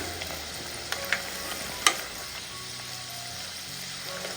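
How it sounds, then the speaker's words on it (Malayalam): Murukku fries in hot oil over a medium flame, a soft steady sizzle broken by a few sharp crackles and pops, fairly quiet and with no talking. "അപ്പം ഇത് അധികം കളറൊന്നും മാറാതെ വേണം ഇത് ഫ്രൈ ചെയ്തെടുക്കാൻ വേണ്ടിയിട്ട്"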